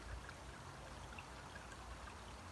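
Water from a backyard pond waterfall spills steadily over stone, a soft continuous trickling wash with no pauses, fairly faint and alone.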